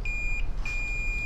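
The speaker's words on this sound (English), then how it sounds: "I heard 2 beeps." Two sharp, high electronic beeps sound during the repair of a dead iPhone 6 Plus, the first short and the second longer, close and clear with no talking.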